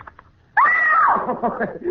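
A woman gives one sudden loud scream in an old-time radio drama. It begins abruptly after a quiet moment, holds, then wavers and trails off.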